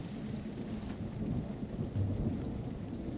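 Steady rain with low rumbling thunder in a game called Tribe: Primitive Builder, a continuous wash of downpour and distant rolls of thunder with no voices.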